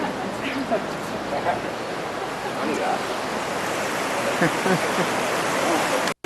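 River water rushes steadily past a mill beside a 15th-century bridge, a broad continuous wash of flowing water heard up close, with faint voices in the background.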